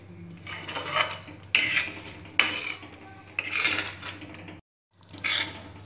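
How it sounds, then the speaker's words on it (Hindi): Fresh coriander being stirred into shahi paneer in a pan, a spoon scraping the metal in repeated bursts of clinks and scrapes with brief pauses, close up and with no talking. "हरे धनिया को हम अच्छे से मिक्स कर लेंगे।"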